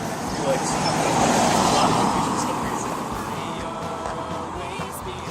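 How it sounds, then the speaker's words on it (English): A car passes by on a road, its broad tyre and engine roar swelling to a peak and then fading away, close and fairly loud while traffic hums on behind it. "Wait till this car passes."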